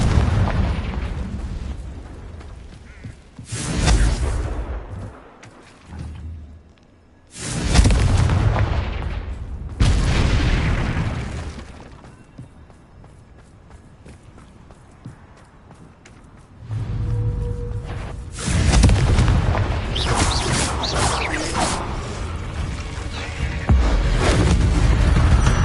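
Spell explosions from Bombarda and Confringo in Hogwarts Legacy, several loud booming blasts with long rumbling tails, separated by brief quieter gaps, alone without talk.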